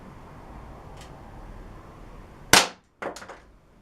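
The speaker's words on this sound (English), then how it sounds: "So, here goes the shooting test. Okay, 10 shots." A Crosman C41 CO2 air pistol fires from a bag rest, giving one sharp, close crack followed about half a second later by a quieter snapping burst, after a stretch of low background hiss.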